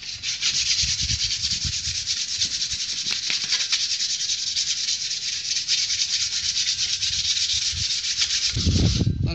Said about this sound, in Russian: Наждачку вначале покрупнее берем.